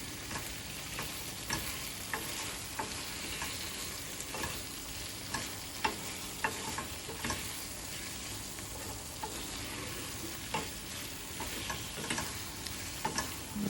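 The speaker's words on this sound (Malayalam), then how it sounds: "എന്നിട്ട് നമ്മളുടെ ടോഫു അതിലേക്ക് ഇടുക. എന്നിട്ട് നന്നായിട്ട് മിക്സ് ചെയ്തെടുക്കുക." Tofu is stirred into a thickened sesame garlic sauce in a pan, giving a soft, continuous sizzle broken by scattered scraping and stirring clicks from the utensil.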